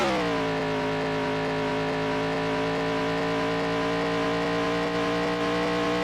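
A steady, droning race car engine from a vintage racing video game, held at high revs with a buzzy harmonic tone and no talking.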